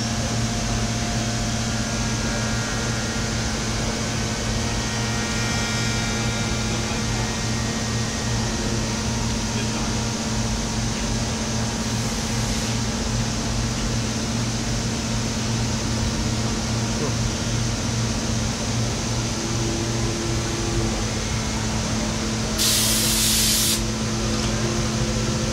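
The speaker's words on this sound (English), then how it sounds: "So what you're seeing right now is just a bevel cutter." A CNC bevel cutter carves a Taylor guitar neck in a factory, giving a steady, continuous whirring and rushing drone with a constant low hum beneath and a brief burst of hiss near the end.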